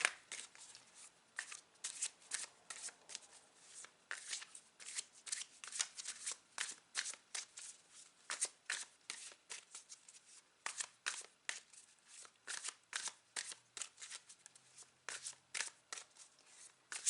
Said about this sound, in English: I'm now going to pull out a tarot card for each of these oracle cards.